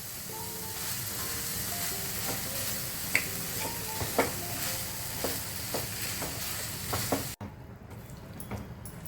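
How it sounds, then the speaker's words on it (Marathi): Mawa and sugar roasting together on a hot tawa over medium heat for a lavang latika Diwali sweet: a steady close sizzle with scattered stirring scrapes, dropping suddenly quieter near the end. "तर मावा आणि साखर आपण भाजून घेतोय."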